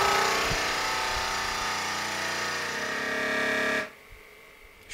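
A vacuum sealer sealing a bag of pork runs with a loud, steady buzzing whir for about four seconds, then cuts off abruptly into quiet.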